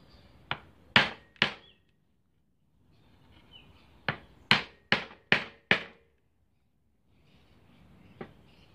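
Hammer tapping a loose wooden piece back into a log reindeer outdoors, sharp knocks in two clusters: three quick taps, a pause, then five steady blows and one last tap, close and crisp against quiet surroundings.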